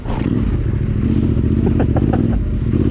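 Adventure motorcycle ridden through the sandy Nellis Dunes in Nevada, a steady close engine drone with scattered clatter and scraping from the bike over rough sand, continuous and loud throughout.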